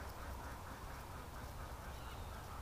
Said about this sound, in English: Oh, and the ducks are down here.